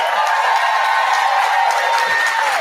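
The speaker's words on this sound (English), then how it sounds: "I love that my mom had the audience clap." Studio audience applauding and cheering on a talk show, a steady wash of clapping with some whoops that stays loud and even from start to finish.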